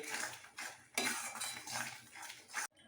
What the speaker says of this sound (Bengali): নাড়াচাড়া দিতে দিতে পুরটা রেডি হয়ে গেছে